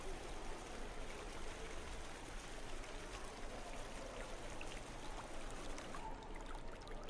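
Water flows steadily and evenly throughout, a constant rushing indoor stream inside a former factory, with no voices.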